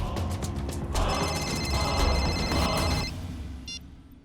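A telephone rings with a bright, trilling electronic bell, several repeated rings in a row, loud and close, sitting over a low steady background.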